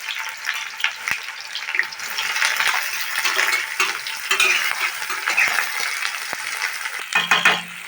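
Chopped onions frying in a pan with whole garam masala, a loud, continuous sizzle and crackle that carries on throughout, with a few scraping stirs and a brief clink near the end.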